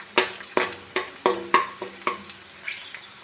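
Cumin seeds and small pieces of chopped garlic frying in a pan, with a series of sharp clattering scrapes and stirring knocks at a steady rhythm over a soft sizzle, close and fairly loud.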